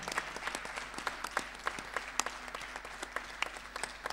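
Audience applause at a show finale for a singer, a steady crowd of many hands clapping at moderate distance, dense and even throughout with no break.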